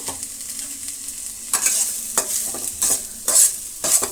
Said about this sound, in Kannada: ನಾವು ಕಟ್ ಮಾಡಿಕೊಂಡಂತಹ ಈರುಳ್ಳಿ ಮತ್ತು ಹಸಿಮೆಣಸಿನ್ಕಾಯನ್ನು ಸೇರಿಸ್ತಾ ಇದ್ದೀನಿ. ಎರಡನ್ನು ಫ್ರೈ ಮಾಡ್ಕೊಳ್ಳೋಣ